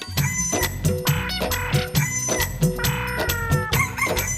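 A four-legged fighting rooster with two extra legs clucks over and over in a busy, fairly loud stretch of repeated calls that fill the whole span.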